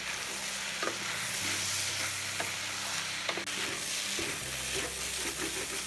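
A spoon stirs sauce into a restaurant-style Gobi Manchurian gravy, making soft, intermittent scrapes and clicks over a quiet, steady sizzle from the pan.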